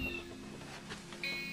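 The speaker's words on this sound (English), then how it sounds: "kitty." A cat gives a short meow or two near the microphone, faint and brief against steady room hum and a tonal background.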